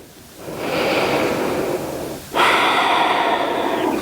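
A slow, deep inhale during a yoga session, a steady airy rush of breath close to the mic, followed by a second, louder breath that holds to the end.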